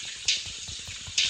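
Gentle watery splashing and lapping from the island survival game Ocean is Home, with two brief brighter splash bursts standing out over a steady soft liquid background.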